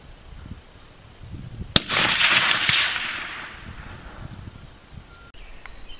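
A Howa 1500 rifle in .30-06 fires a Hornady 150-grain full metal jacket round at a target 250 yards away: one sharp, close crack followed by a rolling outdoor echo that fades over a few seconds.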